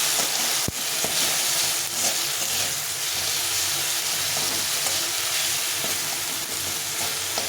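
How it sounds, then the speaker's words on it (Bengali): Spices with green chili, turmeric and salt fry for chickpea dal in a pan, giving a continuous close sizzle and crackle with occasional sharp clicks of stirring, and no one speaking. "ভালো করে ভেজে নিব, মশলাটাকে সুন্দরভাবে ভেজে নিতে হবে।"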